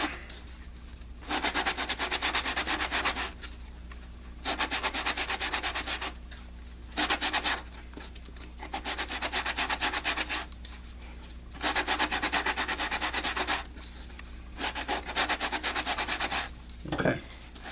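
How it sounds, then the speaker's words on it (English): The surface of a Rockford speaker recone is scuffed up by hand, a close, steady scratchy sanding rasp in repeated bursts of a second or two, broken by short pauses and a brief knock near the end. "we're just going to scuff it up all the way around"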